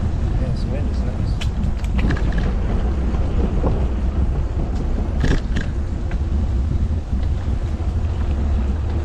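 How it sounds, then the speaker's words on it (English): Heavy wind buffets the microphone during a bike ride on the Mill Creek Greenway at Ezell Park in Antioch, Tennessee, a constant loud low roar with gusts and occasional bumps, with a voice heard faintly beneath it. "this wind is nice"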